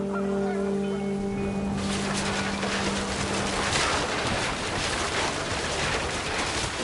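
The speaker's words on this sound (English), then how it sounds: "The wind picked up, and panicked geese appeared and quickly went." Panicked geese honk in a flurry of close calls in the video game What Remains of Edith Finch, then a loud rushing wash of wind noise swells and drowns everything out.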